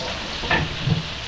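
Garlic and onion sautéing in a small pan for pansit bihon, a short burst of steady frying hiss with a couple of brief stirring scrapes, close and untouched by talk.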